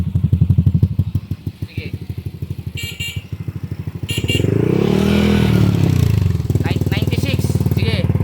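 A motorcycle engine chugs at idle with a rapid, loud thumping beat, then the throttle opens into a sustained rising and falling rev before it drops back to a quick idle pulse, while someone speaks briefly over it.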